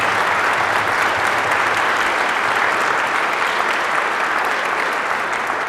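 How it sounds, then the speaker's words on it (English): Sustained, loud applause from a crowd honoring veterans at a county address, an even wash of many hands clapping throughout with no speech. "Please join me in giving our veterans a round of applause."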